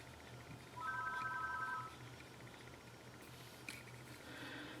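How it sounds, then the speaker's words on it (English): A home telephone gives a single electronic ring burst from a robocall, a faint warbling trill lasting about a second over a quiet room hum, followed by a small click. "when it's a robocall, it only rings once"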